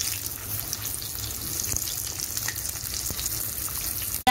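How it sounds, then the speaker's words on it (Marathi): Coated chicken pieces frying in hot oil for homemade crispy fried chicken, a steady close sizzle and crackle throughout, loud and unbroken with no talk. "आता आम्ही याला फ्राय करून घेतो"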